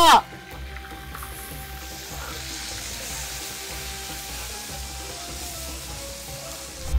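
Ginger and garlic fry in a pan over an outdoor village fire, a steady loud sizzle after an opening clatter, with a voice heard faintly under it.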